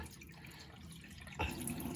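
Water being drained off and food rinsed while cooking, soft trickling and dripping close by with a brief louder splash partway through, no voices.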